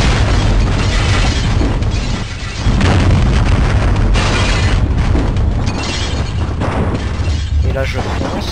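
Cannon firing in Half-Life: loud booming blasts in rapid succession, dense and continuous, with a short dip near the middle before the barrage resumes.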